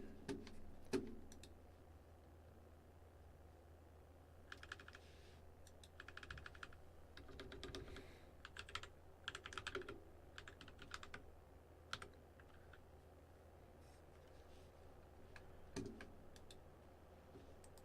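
Fingers type on a Bluetooth office keyboard in a quiet room, producing bursts of light, quick key clicks and clacks at an uneven pace. A few pauses break up the typing, and no one speaks.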